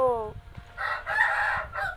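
A rooster crows in a short, drawn-out call after a brief voice, sounding somewhat synthetic and close, in a Roblox game.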